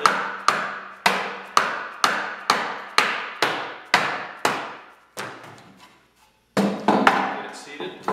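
Wooden foot stool top being tapped into place with a hammer, a run of evenly spaced sharp knocks about twice a second, then quieter scattered taps and a brief pause before a final cluster of hits, close by.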